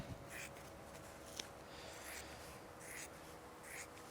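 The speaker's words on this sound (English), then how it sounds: "you can just cut that out with a pair of scissors" Scissors cut through upholstery foam for a wooden chair seat, giving soft, faint, rhythmic snipping and rasping strokes repeated about every second, close and quiet.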